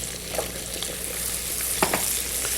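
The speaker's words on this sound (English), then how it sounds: "Let's put our vegetables in there now" Broccoli, carrots, spinach and corn sizzle in a pan with butter and sautéed ginger, a steady bright frying hiss with a few crackles and stirring scrapes, no voices.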